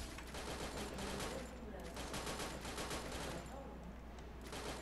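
Gunfire in the Free Fire battle royale game: dense bursts of rapid shots in clustered volleys with brief gaps, fairly quiet and under a steady game background.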